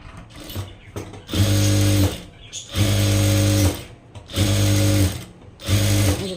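Sewing machine stitching piping along the lower edge of puff sleeves, running in four loud, close, even bursts of rapid stitching separated by short pauses, with no talk.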